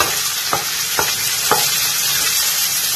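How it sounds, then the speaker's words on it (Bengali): Cashew nuts fry in a pan or wok with a steady sizzle, broken by three evenly spaced scrapes of a stirring spatula. "কাজুটা দিয়ে দিয়েছি, দিয়ে একটু লাল লাল হবে"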